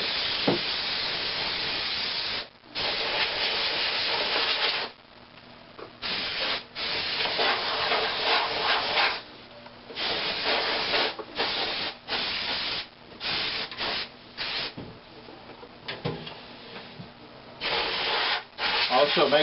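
Loud hissing bursts from a compressed air can blowing dust out of a desktop PC, repeated in on-off blasts of varying length, close and steady, with brief pauses between them.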